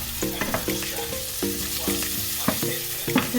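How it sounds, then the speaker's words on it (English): Red onions sautéing in a pan for adobo, with a close, steady sizzle punctuated by several short, rhythmic tonal scrapes and stirring strokes. "Let's saute it until golden brown."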